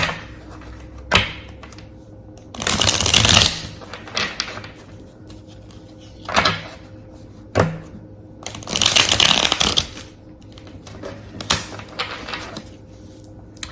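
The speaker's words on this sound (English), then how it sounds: "I'll do a good hard shuffle" Tarot cards are shuffled hard in two long, loud bursts of riffling, with short sharp taps and shuffles between them, close by and without talk.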